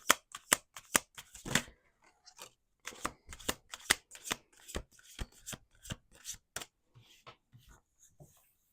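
Tarot cards being shuffled by hand in repeated crisp riffling bursts with short pauses between, close and fairly quiet.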